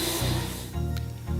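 An airbrush sprays gray lacquer paint mixed with black onto Gunpla parts, giving a soft, steady close hiss with faint shifts in tone.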